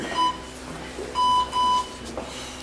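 An electronic workout interval timer gives three clear high beeps as it starts, one short tone followed by two longer ones, heard alone in a quiet exercise room.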